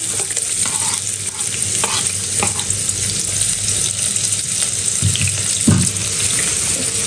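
Onions frying in a pot as the base for smoky party jollof rice, a steady broadband sizzle with occasional stirring scrapes and clatter, fairly loud and close, no talking.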